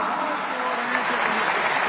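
Audience applause at a Hindi kavi sammelan poetry recital, a steady, dense wash of clapping that holds at an even level for the whole two seconds with no voice over it.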